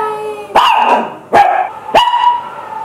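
A dog barks three times in loud, close, sharp bursts spaced about a second apart, each with a short tonal ring.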